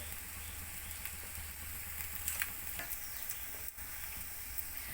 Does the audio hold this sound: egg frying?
yes